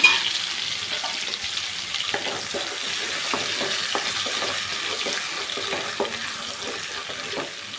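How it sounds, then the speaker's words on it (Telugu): Ginger garlic paste fries in oil for an Andhra-style fish curry, giving a continuous fine crackle and sizzle close by with scattered pops and light stirring. "అలాగే ఒక స్పూను అల్లం వెల్లుల్లి పేస్ట్ వాసన పోయేదాక వేయించుకోవాలి"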